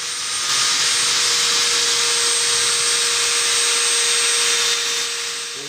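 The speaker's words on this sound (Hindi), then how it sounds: "तो ड्रिल का काम हो गया है।" An electric drill bores holes into a wooden dressing table, giving a steady, loud, continuous whine that holds evenly for about five seconds before easing off.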